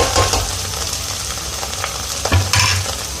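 Bottle gourd peels fry in hot oil with a steady sizzle, and a spoon stirs them in the pan with scraping clatters. The sounds are close and there is no talking.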